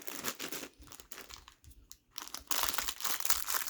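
A package of gift stickers for Christmas wrapping is torn and crinkled open by hand, with plastic crumpling in close, uneven bursts, a short lull midway, then louder rustling.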